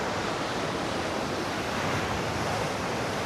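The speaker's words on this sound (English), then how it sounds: "Here is a closer look on the ocean." Ocean surf at Port Douglas, Queensland, Australia, a steady broad wash of waves with some wind noise on the microphone, constant and fairly distant with no voices.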